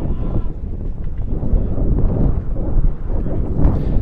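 Steady wind at an outdoor college baseball game buffets the microphone, a low rumbling roar that rises and falls without pause throughout.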